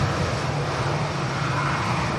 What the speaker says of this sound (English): TUI Dreamliner lining up on the runway.